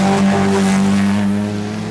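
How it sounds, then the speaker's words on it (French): Factory Lancia rally car racing on the 1987 Tour de Corse, its engine a loud, steady, close drone holding high revs before easing off slightly near the end, with no voices. "Une Lancia d'usine pour Loubet"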